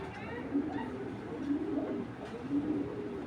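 Racing Giribaz pigeons cooing in a loft, a few low soft repeated coos close by over a steady murmur of background noise.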